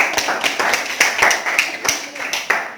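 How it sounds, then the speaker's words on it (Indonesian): A classroom of students claps for a presenting group during a chemistry lesson, a lively burst of uneven, fairly close handclaps with a few sharper slaps standing out, sustained throughout. "berikan aplaus kepada kelompok 3"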